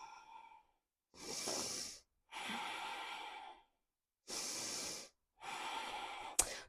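Deep, slow breaths are taken close to the microphone while holding a yoga high plank: four long, airy inhales and exhales separated by brief silences, loud and alone.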